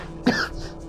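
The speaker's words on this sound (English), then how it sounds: "And a cacophony of coughs." A single short cough, close and moderately loud, followed by faint room noise.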